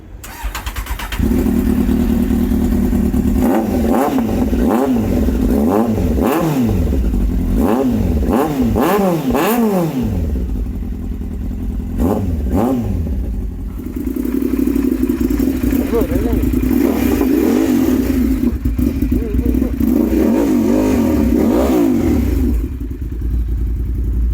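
A Honda CBR inline-four superbike engine revs repeatedly in a showroom, with a run of sharp rising and falling blips followed by longer sustained revs, loud and close, with people talking in the background.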